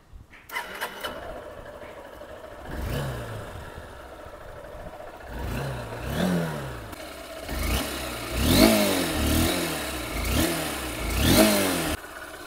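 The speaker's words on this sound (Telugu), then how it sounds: "సో ఒకసారి ఇప్పుడు ఇంజన్ ఆన్ చేసి ఇగ్నిషన్ చూద్దాం." A vehicle engine with a long exhaust cranks and fires up, settles into an idle, then is revved repeatedly in a run of rising and falling blips, loud and close.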